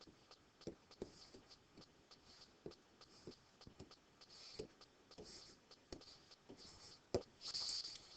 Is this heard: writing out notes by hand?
yes